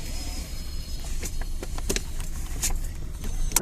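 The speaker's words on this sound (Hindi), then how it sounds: "ट्रैफिक ब्लॉक है, ट्रैफिक ब्लॉक थोड़ी थोड़ी।" Traffic crawls along a congested city road, heard from inside a car: a low engine and road rumble with scattered clicks, rattles and brief mechanical whirs, close and moderately loud, with no talking.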